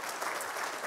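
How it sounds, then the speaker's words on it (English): Dense, steady applause from an audience at the 2022 AFLW Best and Fairest awards night, filling the whole short moment without voices. "Can we have a round of applause for Colin and Angie?"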